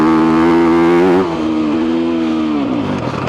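A Yamaha YZ250F dirt bike engine pulls hard through the gears, loud and close, with a steady droning roar that eases after about a second and then climbs again.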